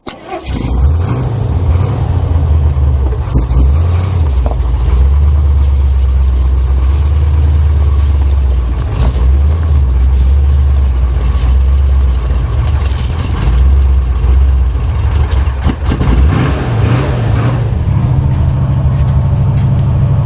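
A 1981 Chevrolet Malibu Classic, a barn find with a carburetor, idles loudly and steadily up close, a deep continuous rumble with slight surges and a brief rise near the end.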